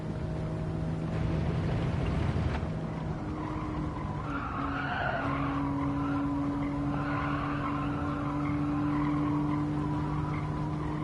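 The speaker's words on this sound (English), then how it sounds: "All that tire squealing that you hear is me losing time." Tires squeal continuously as a race car slides through corners in Gran Turismo 7, the loud screech rising and falling over a steady engine whine with no talking.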